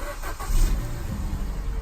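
A salvage-auction car's engine cranks and catches, settling into a low, steady rumble close by, loud and continuous for a couple of seconds.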